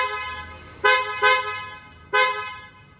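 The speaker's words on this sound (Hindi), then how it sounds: "जब आप S प्लस को लॉक करते हो तो आपको ऐसा हॉर्न की आवाज़ आती है" Hyundai Creta S Plus horn sounding as the car is locked: three short, loud honks, the first two close together and the third after a pause, with quiet in between.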